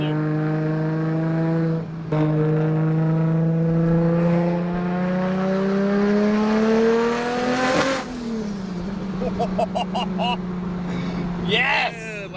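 Engine of an 800 HP Nissan R33 GTR revving and accelerating, a loud strained note that climbs steadily in pitch, drops at a shift, then sputters and crackles; occupants talk excitedly over it.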